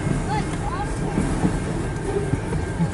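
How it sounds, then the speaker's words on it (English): A CN freight train of car haulers rolls past at Port Huron, Michigan, producing a steady loud rumble with faint squeals over it. "This is the train."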